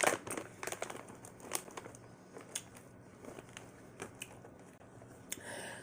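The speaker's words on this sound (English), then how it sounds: "I am chewing on some trail mix." Crunchy trail mix being chewed close up, with repeated sharp crackly bites and crunches spread across the stretch, loudest at the start and then continuing in softer irregular bursts.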